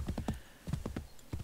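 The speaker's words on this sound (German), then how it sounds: "Auch hier können wir, wie damals in Brotherhood, auch durch die Stadt reiten." Horse hooves clip-clop in a quick, uneven rhythm as a horse is ridden through a town in Assassin's Creed 3, with faint, close hoofbeats in short bursts and no speech over them.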